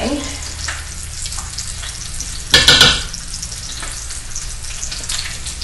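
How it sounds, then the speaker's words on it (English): Broccoli salad dressed with mayonnaise, vinegar and stevia being stirred in a big container, giving a continuous wet, sticky churning sound with one louder clattering scrape midway. "we're going to mix this up and see just how sticky"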